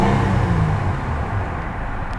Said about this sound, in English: Honda always seems to have a good understanding of how to make a V6 sound